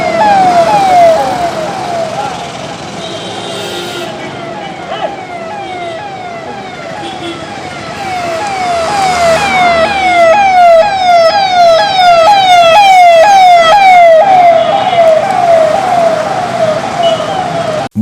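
A wailing ambulance siren sweeps up and down repeatedly through a jammed city street in Ranchi, loud and steady, with the low rumble of surrounding traffic beneath it.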